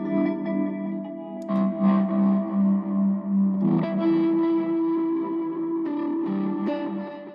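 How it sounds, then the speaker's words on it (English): Fender Jazzmaster electric guitar with tremolo, reverb and delay effects, playing soft, ambient shoegaze-style chords whose volume pulses rhythmically and washes into long echoing tails, moderately quiet and alone. "This is what it sounds like with the trem, both the reverbs and the delay"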